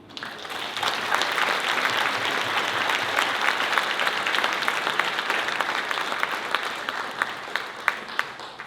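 An audience at a motivational speaking event applauds to welcome speaker Redmond Ramos onto the stage, with steady, dense clapping that holds for several seconds.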